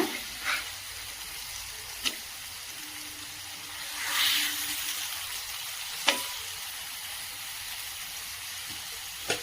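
Fish fry sizzles softly in a pan, a faint continuous crackle broken by a few sharp utensil scrapes and taps as it is stirred and turned.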